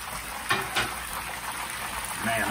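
Tilapia fillets sizzling in hot frying pans, a steady close crackle of oil with a few sharper pops.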